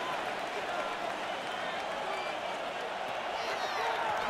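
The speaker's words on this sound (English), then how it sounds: "And this crowd into it now as we get to 3rd down." Stadium crowd in the football video game Madden 26 roars steadily as a third down approaches, a dense, continuous wash of cheering that stays loud and even throughout.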